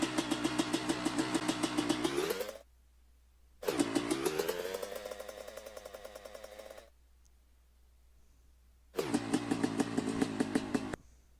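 Motorcycle engine sound from the game MX Bikes, played as three separate loops of a buzzing idle that rises slightly in pitch, each cut off abruptly with silence between.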